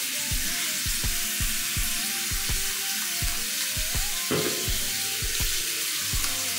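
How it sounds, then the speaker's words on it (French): Hot water running steadily from a tap into a sink, a constant close hiss with a soft repeating patter underneath, and no talk. "je laisse couler un peu l'eau parce que j'aime bien utiliser l'eau chaude"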